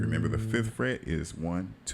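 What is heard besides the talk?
No everyday noises stand out.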